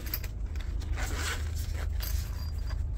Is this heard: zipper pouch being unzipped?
yes